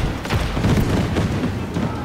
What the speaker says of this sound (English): Damn, look at those explosions right there